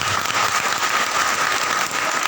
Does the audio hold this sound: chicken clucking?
no